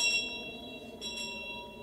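A bell rung by pulling its rope sounds as a faint, sustained metallic ringing, with clear overlapping tones that swell slightly once midway and linger without any voices.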